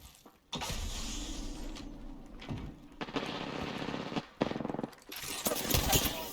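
Gunfire in a first-person shooter video game, sustained loud bursts broken by brief gaps, with a sharp shot near the midpoint and dense mechanical clatter underneath.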